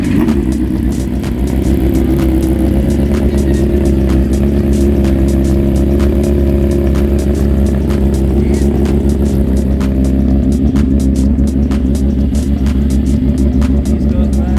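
Motorcycle engines rev and rumble at an indoor bike event, a loud continuous low drone with steady throttle pulses and crowd noise underneath.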